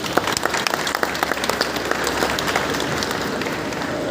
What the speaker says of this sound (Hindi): मैं चाहूँगा सब लोग एक बार उनके लिए तालियां बजाएं